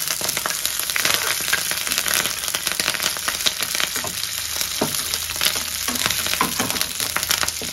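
Onions, green chillies and curry leaves frying in hot oil in a pan, a loud dense continuous sizzle with occasional crackles and stirring scrapes, close up and without talk.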